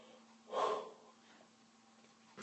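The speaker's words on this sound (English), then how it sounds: "I have cases of the yawns." A single breathy yawn swells and fades, followed by a short sharp exhale at the end, in a quiet room.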